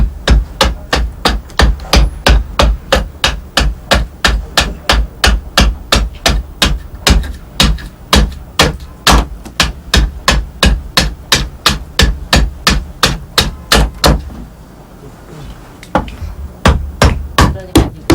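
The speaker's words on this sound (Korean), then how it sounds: "대나무를 찍어가며 내려치는 자귀의 속도가 빠르고 힘차며 깎여나가는 양도 일정하다" An adze chops bamboo laid on a chopping block for traditional Korean bow-making, giving fast, forceful, evenly spaced sharp strikes in a steady rhythm, loud and close, with a brief pause near the end before the blows resume.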